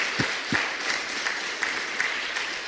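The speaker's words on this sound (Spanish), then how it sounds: "vamos a darle fuerte el aplauso" A church congregation breaks into steady applause, dense and moderately loud, with a couple of deeper thumps at the start and no talking over it.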